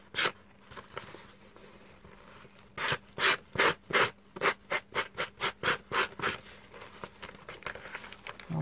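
A tool is rubbed briskly back and forth across a paper napkin to wear it, giving a rapid run of about a dozen close, dry scratchy strokes after a few scattered rubs, with no voices.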